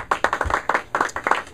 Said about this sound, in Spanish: Da un fuerte aplauso al Rey de Reyes